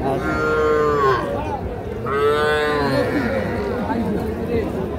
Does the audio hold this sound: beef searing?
no